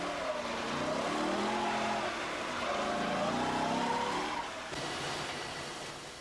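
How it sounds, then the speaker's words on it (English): Newly assembled Corvette on the factory line firing up for the first time, a continuous engine roar with rising and falling revs, fairly loud, easing off near the end. "the Corvette is started for the first time"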